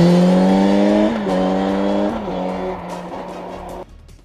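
2014 Kawasaki Z1000 motorcycle engine revving loudly and close, its pitch stepping through several gear changes before cutting off near the end.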